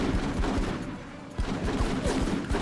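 Heavy gunfire from an Xbox video game demo, a dense run of sharp repeated shots over a constant noisy battle backdrop, briefly thinning before the rapid bursts resume.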